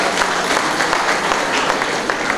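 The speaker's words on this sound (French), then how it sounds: "Est-ce qu'on peut applaudir?" Guests at a wedding party applaud the couple, a lively, dense burst of many hands clapping close by, with a few sharper claps standing out over a couple of seconds.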